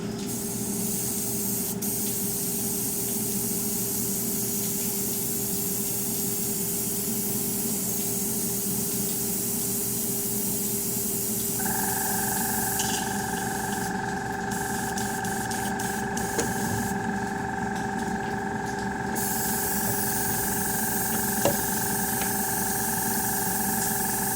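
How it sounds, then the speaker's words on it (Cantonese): An airbrush sprays paint with a continuous hiss over the hum of a spray booth extraction fan. Partway through, an air pump's steady tonal drone joins in, and the spraying hiss comes in short surges. "呢個噴漆時嘅聲音。"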